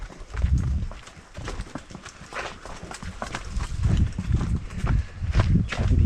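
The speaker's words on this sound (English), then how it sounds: "Try to be chill near the horses." Horses walking on a dirt coastal trail south of Puerto Vallarta, an irregular clip-clop of hooves passing close by with footsteps and rustling, moderately loud throughout, with a voice speaking faintly in the background.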